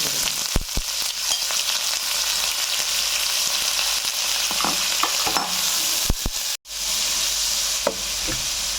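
Onions frying in oil with cinnamon, cardamom, bay leaf and chilli, a continuous close sizzle broken by clattering stirring strokes and one brief pause.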